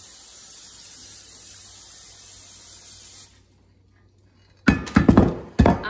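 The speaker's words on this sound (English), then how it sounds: "First thing we're going to do is spray the casserole dish." A steady hiss of cooking spray into a casserole dish runs for about three seconds, then stops; after a brief silence come a few clattering knocks and thuds.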